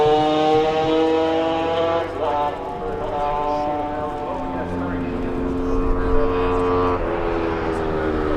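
A Kawasaki racing motorcycle in a road race for newcomers at Ballacraine holds a steady, buzzing engine note whose pitch shifts as it passes, with a race commentator talking over it throughout.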